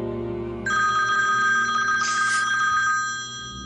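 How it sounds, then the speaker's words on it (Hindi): A telephone rings with a steady electronic trilling tone that starts abruptly and holds for a few seconds over a low background hum, loud and close, then fades slightly. "मेरा ख्याल है ये उन्हीं का फोन है।"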